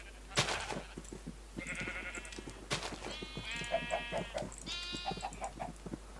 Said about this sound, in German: was passiert eigentlich jetzt, wenn ich das weiße Schaf mit dem rosanen Schaf kreuze